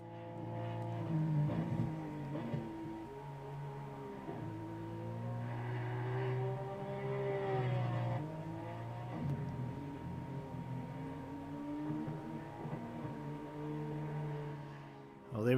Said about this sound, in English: beautiful sound of that car.